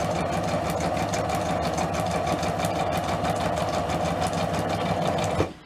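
A sewing machine stitches through paper with a fast, steady mechanical chatter close by, including a short back stitch, then stops abruptly near the end.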